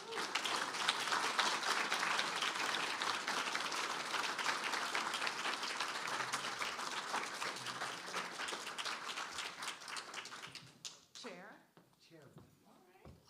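An audience applauds after a faculty presentation by an artist, with dense, sustained clapping that fills most of the stretch and then tapers off as a voice begins speaking.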